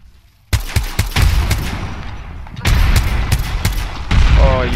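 Rapid gunfire in a video game shooter, loud repeated shots and bursts coming in quick clusters with heavy low booms, near and dense, continuing throughout with faint voice chatter beneath.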